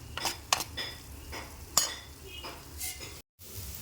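Beetroot fry sizzling over a low flame in a pan, stirred every so often, with several sharp spatula scrapes and clinks against the pan over a steady frying hiss, followed by a brief cut to silence.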